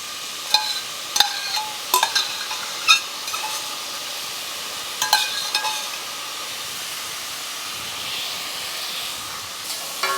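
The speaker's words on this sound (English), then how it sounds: "So I am going to just go ahead and stir fry this a little bit, saute it." Rehydrated dehydrated cabbage stir-frying in a pan, a steady soft sizzle and hiss with scattered sharp clicks and scrapes of a utensil stirring, close and fairly quiet.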